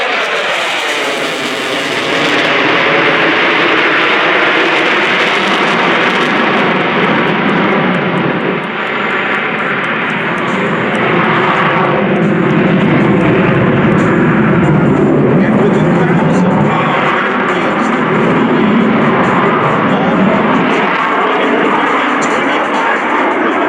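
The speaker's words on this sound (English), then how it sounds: "This is called the tactical pitch." An F-35B Lightning II jet flies a tactical pitch at the 2024 MCAS Cherry Point air show, and its loud, sustained roar stays steady for the full stretch, far off and broad, with the engine's rush swelling and easing slightly.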